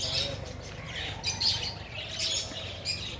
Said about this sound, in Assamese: লাভ বাৰ্ড